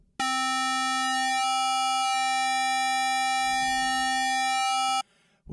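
Supersaw synth patch on an Arturia JUP-8000 V software synthesizer, one steady bright buzzing chord held for about five seconds, loud and alone before it cuts off abruptly.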